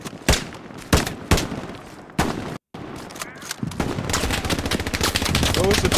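Machine gun fire in the war game Hell Let Loose, loud separate bursts and single shots at first, then a more constant rattle of gunfire building toward the end, with no clear talk.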